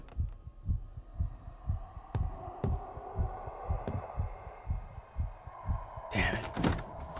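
A heartbeat from the horror game Paranormal Cleanup: Bridle St. throbs in a steady, low double pulse over an ambient hum, with a brief clatter near the end.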